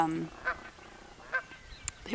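Geese on a farm honk a few times, short nasal calls spaced across a couple of seconds over a low outdoor background.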